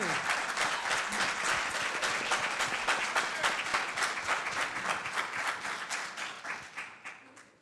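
An audience at a 2015 mayoral candidate forum in Hartford breaks into applause, with dense clapping that gradually thins into scattered, slower claps before fading out.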